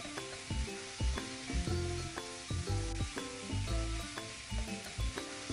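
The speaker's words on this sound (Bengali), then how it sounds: "কিছুক্ষণ পর মশলাটাকে কষানোর পর ভেজে রাখা আলু ও পটল দিয়ে দেব। বেশ ভালো করে কষিয়ে নেব।" Potatoes and pointed gourd sauté in a spiced masala, giving a steady close sizzle broken by rhythmic scraping and clinks of a spatula against the pan, with no talking.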